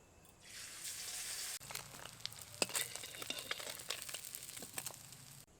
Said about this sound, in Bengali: একইভাবে বাকি মাছগুলো ভেজে নেব